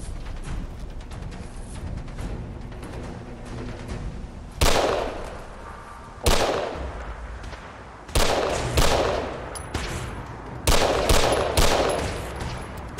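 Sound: submachine gun firing in video game Fallout 4

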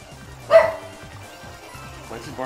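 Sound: dog barking in video game Super Mario Odyssey

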